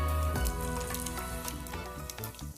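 Dried red chillies drop into hot oil and crackle with a loud, continuous sizzle that settles over faint tonal music.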